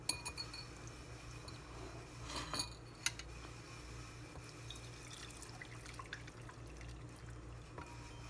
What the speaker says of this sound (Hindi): एक बर्तन में अपना ये पानी छान लेते हैं, इस तरह छन्नी लगा के, छन्नी की मदद से